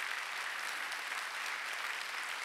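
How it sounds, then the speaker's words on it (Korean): A church congregation claps together in a dense, steady wash of applause that holds at an even level throughout, with no voices over it. "박수를 치려면 치면"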